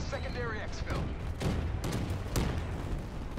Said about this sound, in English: Oh my god, explosions everywhere.